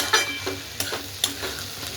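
Green flat beans (ghevda) with crushed peanuts sizzle in oil in a pan, a steady close frying hiss broken by a few soft stirring scrapes.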